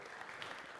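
Brief burst of audience applause at a maker event in Munich, steady and fairly faint, cut short after under a second.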